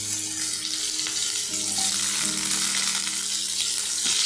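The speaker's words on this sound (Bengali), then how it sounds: "কালো জিরাটা দিয়ে আমি তাতে দিয়ে দিব ডাঁটাগুলি।" Parboiled drumstick stalks drop into hot oil with nigella seeds, giving a bright, hissing sizzle that fills the span and swells as they hit the pan, heard close with no voices.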